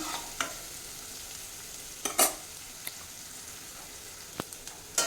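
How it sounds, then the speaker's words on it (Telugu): Ginger and garlic frying in a hot pan with a steady low sizzle, broken by a few sharp utensil scrapes and taps as they are stirred, close up with no voices. "ఇప్పుడు అల్లం వెల్లుల్లి ఇది కొంచెం ఫ్రై అయిన తర్వాతే అండి ఆనియన్ వేయాలి"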